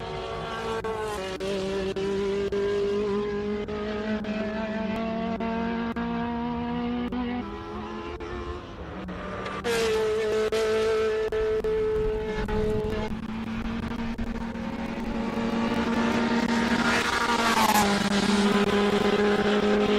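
A classic race car driven by Franco Scribante accelerates up the Simola hill climb, its engine screaming through rising gears near the rev limiter, loud and close, with a brief lift between shifts.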